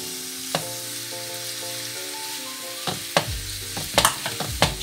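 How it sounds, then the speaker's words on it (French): Minced garlic and ground beef or meat frying in a pan over medium heat, a steady sizzle with scraping stir strokes and sharp utensil clacks growing louder toward the end; no talking. "Je fais revenir l'ail. Je mets sur feu moyen. J'ajoute ma viande hachée."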